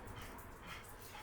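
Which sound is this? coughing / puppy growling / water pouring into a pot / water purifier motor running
puppy growling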